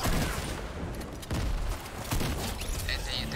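Gunfire in the video game Fortnite, a dense, loud, continuous volley of shots with a few heavier booms, as players talk over the fight.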